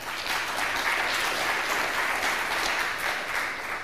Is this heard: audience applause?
yes